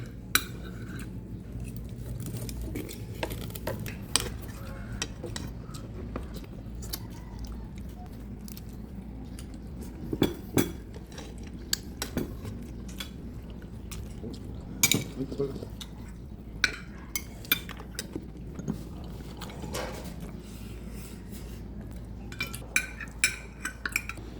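A ladle scoops soup from a pot at a meal of grilled fish and rice, heard as scattered light metallic clinks and scrapes against quieter background sounds of eating.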